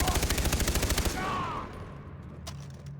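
Rapid automatic gunfire in the video game Far Cry 3 rattles out in a fast, loud, evenly spaced burst for about a second, then cuts off into fading echo and quieter game ambience.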